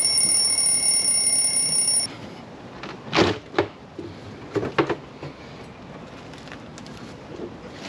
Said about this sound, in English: let's go ahead and take off the engine cowling.